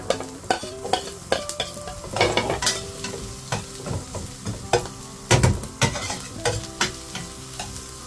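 Garlic toasting in rendered pork fat in a pan, with a soft steady sizzle broken by repeated sharp clinks and scrapes of a utensil stirring against the metal, close and alone.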